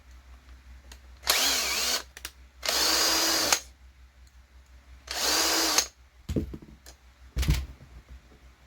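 Power screwdriver driving screws into a Losi 22S RC car during a teardown, with three steady whirring bursts followed by two short clicks and clatters, close and fairly loud with no talking.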